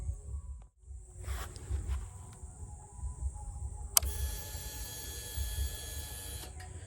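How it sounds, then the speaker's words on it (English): A Royal Enfield Meteor 350 fuel pump primes with a faint electric whine, then a louder steady high hum runs for a couple of seconds before cutting off, heard close and quiet with no talk. "That's the fuel pump on its work."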